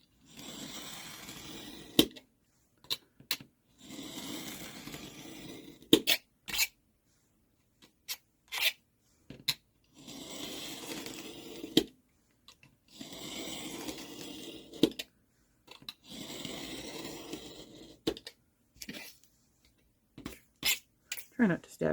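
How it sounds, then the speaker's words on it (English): A craft knife cuts journal paper into strips along a ruler, giving faint, close scraping strokes in four or five repeated passes, separated by quiet gaps with small clicks and taps. "So I just gently go with the knife and cut all these strips off."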